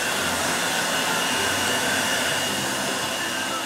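An electric hand dryer in primary school reception toilets blows with a loud, steady whooshing roar from start to finish, close by and unbroken, with no voices.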